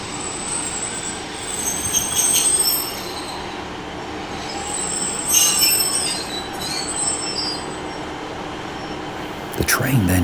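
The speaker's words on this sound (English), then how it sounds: "DMU from Falmouth Docks to Truro. Approaching Penryn Station, it's going through the southern end of the platform" A diesel multiple unit train on the Falmouth Docks to Truro line runs through the platform at Penryn station, wheels squealing loudly against the rails with a steady rumble that swells and fades as it passes close by.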